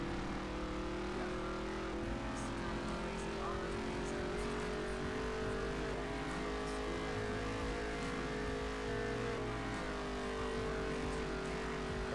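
A slow car racing in a video game, its engine droning steadily at high revs with a gradually rising and falling pitch, loud and continuous throughout with no talking.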